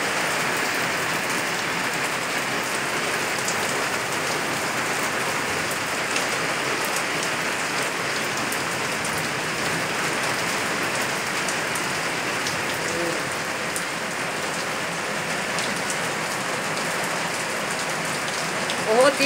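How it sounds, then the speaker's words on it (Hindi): Heavy rain pours down in Faisalabad, a dense and constant hiss of drops on surfaces that continues without a break. "आज बहुत ज़्यादा बारिश हो रही है"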